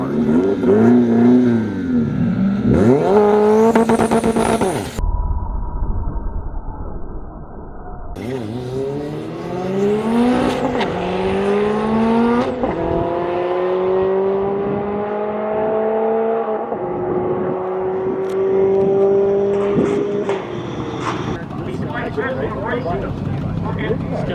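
A VW Bug built on an MR2 chassis screams through a drag racing test pass, its engine revving hard through rising pitch sweeps with gear shifts, loud and sustained across the run.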